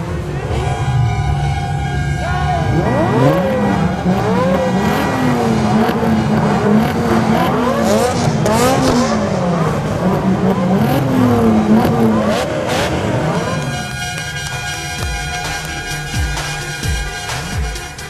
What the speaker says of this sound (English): Before the sports cars set off for the first leg, they were simultaneously fired up on all cylinders